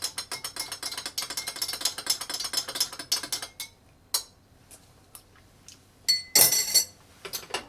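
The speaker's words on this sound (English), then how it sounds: "let's give it a stir" Hot toddy stirred with a spoon in a glass, a rapid stream of light clinking and ticking against the glass that thins out into a few scattered taps and a final clatter, close.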